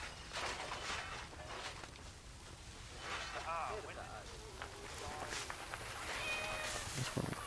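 A cat meows a few times in Assassin's Creed Origins, short tonal calls over game ambience and faint movement, with someone talking around them.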